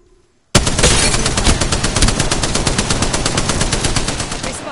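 A long sustained burst of automatic weapon fire in Apex Legends, rapid evenly spaced shots starting abruptly after a brief near-silence and continuing loud and steady throughout.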